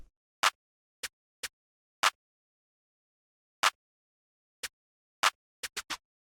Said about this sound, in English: right at the end of the 8-bar loop we have a triplet roll that descends in pitch